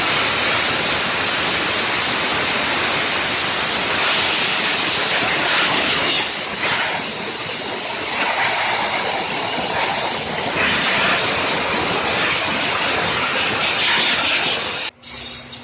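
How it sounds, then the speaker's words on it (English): An aerosol cleaner sprays hard into the carburetor area of a Craftsman mower, a loud, continuous close-up hiss that runs without a break and stops abruptly at the end. "Use up the last of that cleaner and just spraying some dirt and dust out of here."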